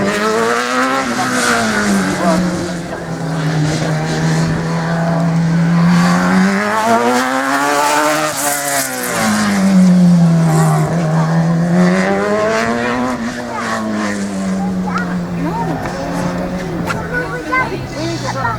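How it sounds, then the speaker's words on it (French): A Suzuki race car fitted with a Suzuki motorcycle engine howls through a slalom course, its high-revving engine note rising and falling as it shifts and slows for gates, loud and close, with a commentator talking over it. "Une Suzuki en piste que Bellon, Frédéric Bellon avec cette Suzuki. Il y a aussi un moteur de moto, forcément un moteur Suzuki"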